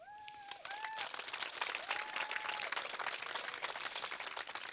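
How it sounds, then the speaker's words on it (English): An audience at an 8th grade graduation ceremony breaks into clapping, building quickly to a dense, sustained patter, with whistled or whooping tones rising above it at the start and again midway. "We can clap and woo for that, right?"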